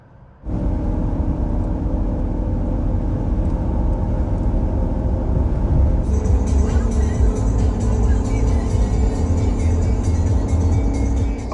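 Steady road traffic with cars driving by, a continuous low engine and tire rumble from motor vehicles that grows slightly busier partway through, heard near and fairly loud without talk.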